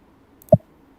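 A single crisp computer mouse click, close and sharp, in an otherwise quiet room.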